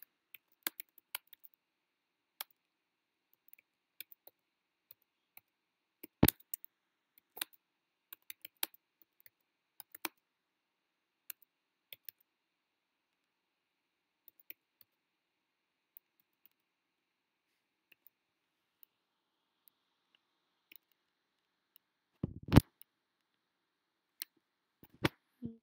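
Sparse, quiet clicks and taps of typing on a computer keyboard, scattered singly and in short clusters with long silent gaps, close and faint, with no talk.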